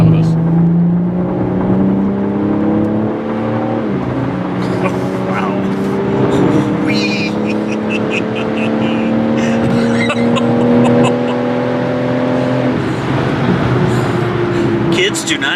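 A 2022 BMW xDrive Competition with a 3-liter twin-turbo inline-six of 503 horsepower accelerates hard up a ramp, engine note climbing steadily through gears from inside the cabin, loud and continuous with voices talking over it.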